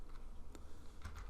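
A few soft, scattered keystrokes on a computer keyboard enter a dimension while working in OnShape CAD software, faint and close against a quiet room hum, with no talking.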